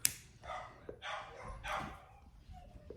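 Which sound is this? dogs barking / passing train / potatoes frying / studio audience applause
dogs barking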